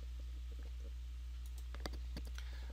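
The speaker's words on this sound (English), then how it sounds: "I'm going to click OK." A computer mouse clicks on an OK button, a couple of sharp, faint clicks near the middle of a quiet stretch of low room hum with no talk.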